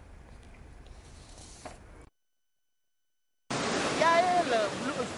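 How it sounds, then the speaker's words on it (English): Sea waves crash against the foundations of buildings along the shore, a loud, broad roar of surf that breaks in after a short silence, with a voice briefly heard earlier. "I watched in shock as the waves hit the foundations of several buildings along the shore"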